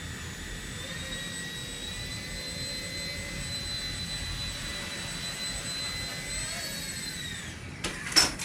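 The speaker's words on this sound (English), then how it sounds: "blades are spinning" Rotor blades of a Blade 70 S micro RC helicopter spin up into a steady high-pitched whine with buzzing tones, held constant for several seconds, then a few brief clicks and bumps near the end.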